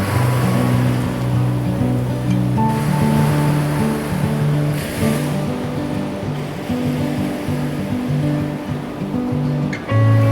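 Steady wash of sea waves breaking on Mandarmani beach at dusk, a continuous loud surf roar with a low rumbling undertone and no voices.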